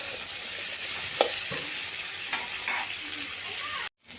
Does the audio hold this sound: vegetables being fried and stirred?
yes